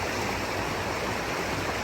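Rainwater from a storm roars through several streams in a garden, with a dense, loud, steady rushing wash and no voices.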